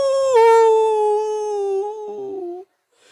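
A voice imitates a howling dog with one long, sustained, wavering howl that bends down in pitch and then cuts off abruptly. It is loud and close, with no other sound under it.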